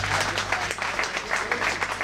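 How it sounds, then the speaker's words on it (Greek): Audience applause on a Greek cruise ship entertainment night for Dimitris, a band musician, with steady dense clapping at moderate loudness and a low hum underneath. "Ένα χειροκρότημα στο Δημήτρη."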